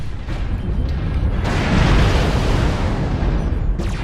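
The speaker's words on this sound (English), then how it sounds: "Oh, we got incoming missiles." Missile barrage striking in MechWarrior Online battle: a dense, sustained rumbling roar of overlapping explosions swelling midway and holding loud, with no talk.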